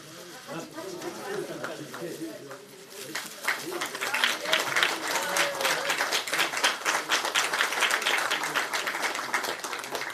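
A crowd at a political party event welcoming Sohn Hak-kyu breaks into applause after a quieter start, the dense clapping swelling and holding for several seconds while people talk over it.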